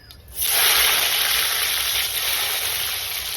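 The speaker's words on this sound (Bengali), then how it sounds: "কড়াইতে ঘি গরম করে কিছুটা দিয়ে দিলাম আমি গোটা গরম মশলা আর কিছুটা কিশমিশ" Whole spices and raisins hit hot ghee in a wok and burst into a loud, close, steady sizzle that starts abruptly and holds without a break.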